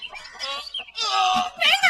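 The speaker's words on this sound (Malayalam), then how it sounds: "പുണ്യാളന്റെ കോഴി" A rooster close by gives loud clucking calls and a drawn-out crow-like cry in a few separate bursts, with short quiet gaps between them.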